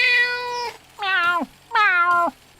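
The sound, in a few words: cat meow of Gary the snail, SpongeBob cartoon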